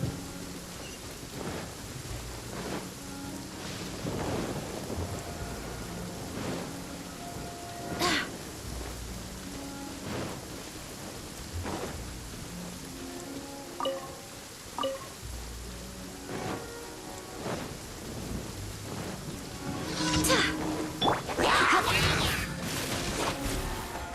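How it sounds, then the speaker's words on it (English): Rain and rolling thunder in the video game Genshin Impact, a steady wash of rainfall with several booming thunder crashes, loudest and densest near the end. "The rain won't slow me down."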